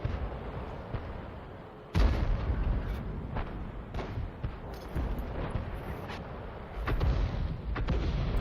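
The 10.5 cm leFH18B2 artillery gun fires in a video game, a sharp loud boom near two seconds followed by rumbling echoes and further distant thuds and blasts over a continuous low battle rumble.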